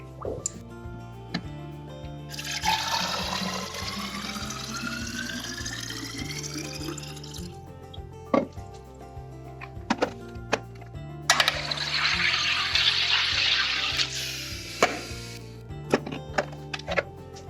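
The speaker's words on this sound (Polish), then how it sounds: "Najpierw robię wodę w saturatorze." A home soda maker carbonates filtered water from a jug filter in two loud, sustained gassy bursts of hissing and bubbling, each lasting several seconds, with clicks and drips in between and over a steady background tune.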